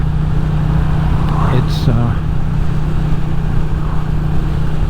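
A Royal Enfield Classic 350 motorcycle rolls along as the rider eases off, a steady low engine drone with wind rumble throughout, loud and close, while someone talks over it.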